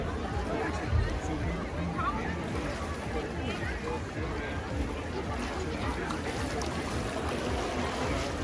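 Boats move about on Attersee, an Austrian lake, under a steady wash of water and distant crowd chatter from a busy beach; no single engine stands out.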